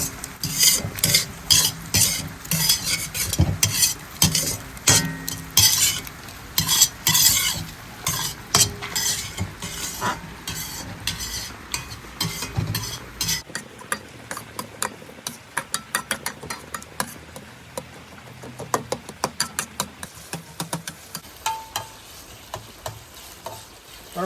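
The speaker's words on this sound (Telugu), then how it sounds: "ఇప్పుడైతే అల్లం వెల్లుల్లి పేస్ట్ వేస్తున్నాం" Ginger garlic paste with onions and tomatoes frying in a pan for egg fried rice, cooked outdoors in the rain: sizzling under a rapid, rhythmic scrape of a spatula stirring against the pan, loud and close, easing into sparser scrapes.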